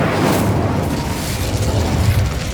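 The Confringo explosive spell going off in the Hogwarts Legacy video game, a loud rumbling blast with crackling burst texture sustained for a couple of seconds.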